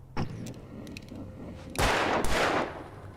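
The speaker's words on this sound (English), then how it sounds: "I should shoot this down" Gunfire from the video game Alan Wake, a sharp shot near the start followed by a longer loud burst of blasts in the second half, close and harsh.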